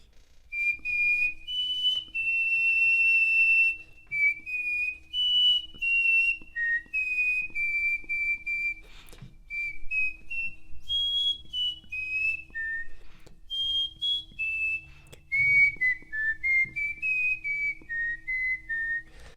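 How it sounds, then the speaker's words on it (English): Solo human whistling of a Disney melody, clear, close and fairly loud, with held notes and gliding pitch changes over nearly twenty seconds and no talk. "so I'm gonna try to whistle something."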